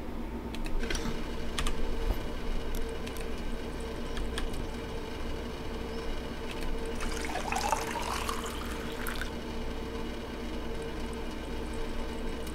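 A water tap runs in the Cradle video game, a soft rushing stream rising for a couple of seconds midway over a background of keyboard typing and faint hum.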